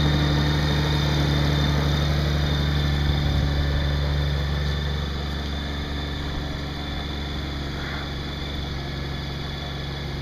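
A 2013 Honda F6B motorcycle engine idles steadily, a continuous low hum with a faint even pulse that holds at the same level from start to finish with no one talking.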